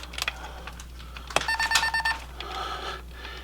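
A short burst of rapid electronic beeps from a treadle sensor as a magnet is set onto the bar, after a few clicks and handling noises, quiet and close, followed by a faint hum.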